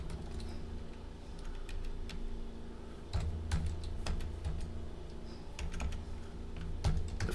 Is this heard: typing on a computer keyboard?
yes